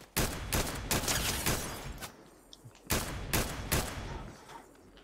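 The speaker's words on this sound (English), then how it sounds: "Somebody's shooting at me from behind." Gunfire in the Fortnite video game, rapid loud bursts of automatic shots in two clusters separated by a short pause.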